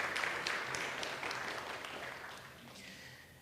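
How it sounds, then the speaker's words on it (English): Soft, fairly distant applause from a church congregation, a wash of clapping that slowly tapers off over a few seconds. "We need to give people a round of applause."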